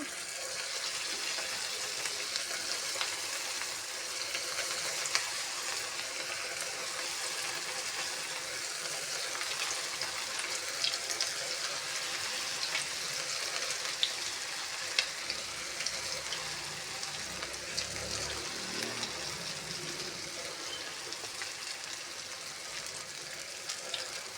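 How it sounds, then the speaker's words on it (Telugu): Idli batter bondas frying in hot oil, giving a steady close sizzle with fine crackling and bubbling that carries on evenly throughout. "ఇలా ఆయిల్ అనేది హీట్ ఎక్కిన తర్వాత కొద్దిగా తడి చేసేసుకొని అలా వేసేసుకోవడమేను"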